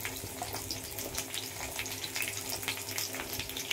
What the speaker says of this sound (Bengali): এবার আমি দিয়ে দেবো ঝিঙে আলু গুলো ভাজার জন্য। হালকা আছে একটু ভেজে নিতে হবে।